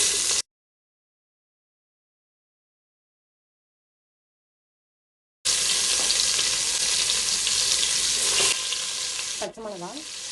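Sliced onion is added to whole spices crackling in hot oil for a paneer pulao, and a dense, close sizzle fills the end of the clip after a long stretch of silence, with a stirring scrape near the finish.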